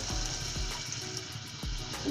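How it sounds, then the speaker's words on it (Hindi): Water is poured into a hot pan for egg Maggi noodles, hissing and sizzling with a few splashy bursts over a steady rush, close and fairly quiet. "अब इसमें थोड़ा सा पानी डालेंगे"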